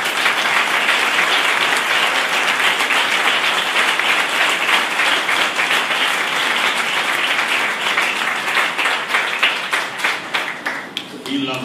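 A church congregation applauds loudly for the Lord, with dense, sustained clapping that fills the room, close and steady before thinning slightly at the end.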